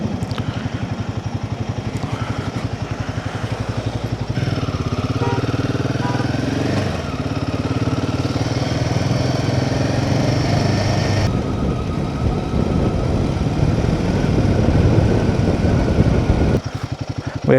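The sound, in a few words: motorcycle engine riding on wet mountain road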